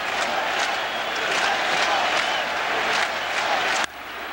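A big crowd at Shea Stadium during a Braves–Mets baseball game in 2001 keeps up a steady, dense roar of murmuring and cheering. It holds fairly loud throughout, then dips slightly near the end.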